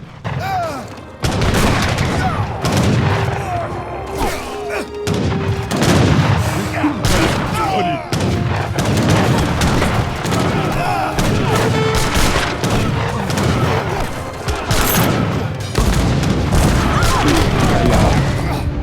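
Repeated booming cannon and gunfire blasts in a strategy video game battle with Inca forces, loud and dense, with scattered tonal effects and chatter layered over continuous battle noise.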